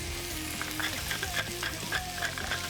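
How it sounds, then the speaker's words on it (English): Onions fry in hot oil with a close, steady sizzle and light stirring scrapes, and a low hum sits underneath. "Now, you've got your hot oil, you're good to go. Take your onions right in there."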